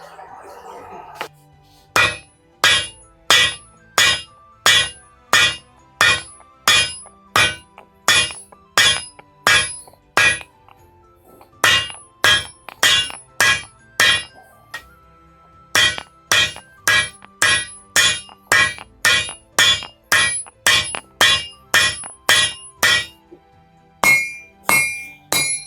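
A hammer strikes a pipe wrench being forged on a small anvil, ringing with bright metallic clangs in fast, even bursts separated by short pauses, loud and close.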